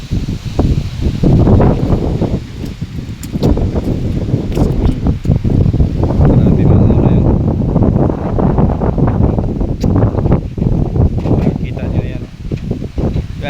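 Loud gusting wind after a typhoon in Iloilo roars and buffets the microphone, with leaves rustling and people talking beneath it.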